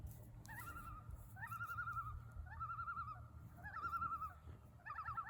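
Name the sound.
call of a loon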